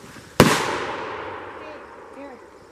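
A single revolver shot fired at an outdoor shooting event: one loud, close crack followed by a long echoing decay, with faint background sounds afterward.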